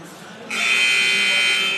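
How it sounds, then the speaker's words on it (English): A loud, sustained electronic buzzer sounds at a college men's basketball game, kicking in abruptly after a half-second of arena murmur and holding a steady tone to the end. "All right, folks, you hear the buzzer."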